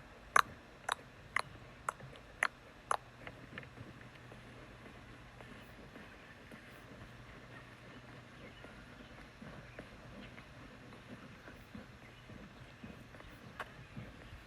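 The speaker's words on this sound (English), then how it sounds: "these are footsteps with EQ and compressor on" Footsteps treated with EQ and compression give six sharp, evenly spaced clacks in the first few seconds, then fade to faint scattered taps over a low hum.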